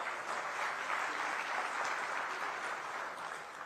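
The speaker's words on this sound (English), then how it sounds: "Can we have a round of applause, please?" Audience applause at a business session hall, steady moderate clapping from a crowd, somewhat distant and faint, continuing evenly throughout.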